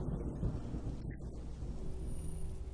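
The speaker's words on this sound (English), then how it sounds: "It sounded like it was going to start raining again." Low rolling thunder in a video game before rain, a continuous deep rumble under faint hissing ambience, with no talking.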